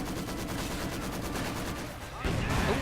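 A sniper rifle shot fires in a Company of Heroes 2 match, amid a dense wash of battle gunfire and explosions, with a sharper burst near the end.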